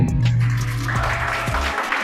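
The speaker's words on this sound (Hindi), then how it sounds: "तो एक दफ़ा ज़ोरदार तालियां।" Audience applause at an Urdu mushaira poetry gathering in Hyderabad, a steady wash of clapping with a low hum underneath, fading out near the end.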